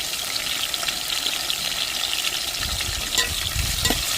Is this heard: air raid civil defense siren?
no